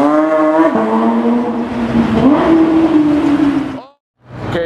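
A Porsche 992 GT3 Touring drives past close by, its engine tone holding and then rising before it fades out abruptly, with a short burst of another engine following after a gap.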